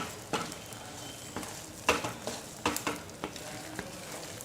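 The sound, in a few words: stirring jaggery and flour in a pan for sukhdi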